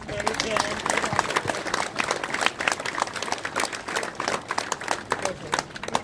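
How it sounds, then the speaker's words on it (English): A crowd at an outdoor Memorial Day parade ceremony in Belvidere, Illinois, applauds its veterans with steady, dense clapping that runs under a speaker's voice. "let's give a big round of applause to our veterans who are here."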